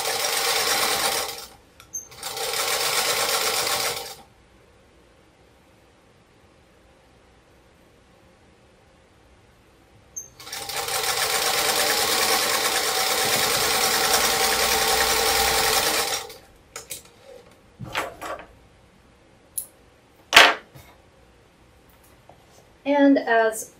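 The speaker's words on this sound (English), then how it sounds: "so I'll sew it this way" Sewing machine stitching a quilt block seam with nested seams, running in two steady bursts then a long continuous run, loud and close, followed by scattered clicks and handling noises.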